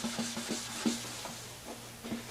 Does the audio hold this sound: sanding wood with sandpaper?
yes